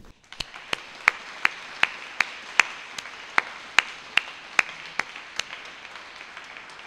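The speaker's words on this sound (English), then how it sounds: "I think just another round of applause for all of those people who do this every day." Applause from the gathered crowd at a peace gathering honouring law enforcement and public safety workers, heard as a thin, even patter with one pair of hands clapping loudly and regularly nearby over it, steady throughout.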